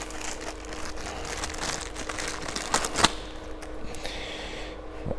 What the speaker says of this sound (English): If we take our new LED unit out of its packaging